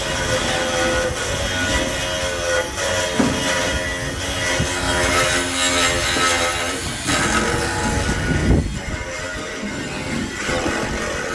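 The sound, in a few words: drilling a hole through a steel bracket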